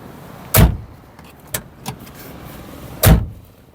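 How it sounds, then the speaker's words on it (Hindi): Rear door of a 2014 Maruti 800 car being shut, heard from inside the cabin: a heavy metallic thunk, a couple of lighter latch clicks, then a second loud slam, close and with no talk. "अभी मैं आपको पीछे वाला डोर दिखाता हूँ और अंदर से सुनाता हूँ किस तरीके की साउंड आती है मेटल वाली"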